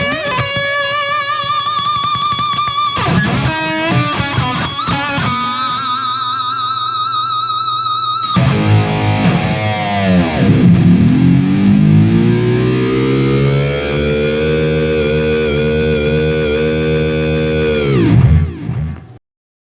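Distorted electric lead guitar plays fast note runs, then holds one long note that sustains and swells for several seconds before cutting off, loud and close with no talk.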